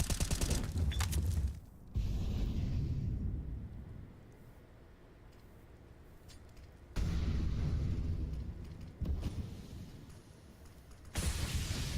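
Gunfire and grenade blasts during a professional Counter-Strike match, heavy booming bursts and rolling bangs in several clusters separated by quieter stretches of game ambience.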